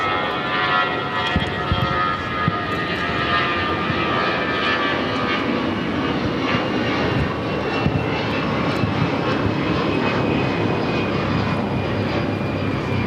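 A Delta Air Lines Airbus A319 takes off at LAX, its jet engines giving a loud, sustained roar with a high whine layered on top, steady and close throughout with no voices.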